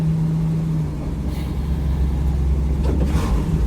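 A 1972 Ford F100 engine idles high with a steady low rumble and a faint hum, nearby and moderately loud, with no talk over it.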